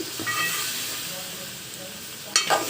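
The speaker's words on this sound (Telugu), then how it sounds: "మొత్తం కిందకి పైకి మొత్తం కలిపేసి" Goat curry being stirred and mixed in a frying pan, a soft steady sizzle with scraping spoon strokes and a brief louder clatter near the end, no talking.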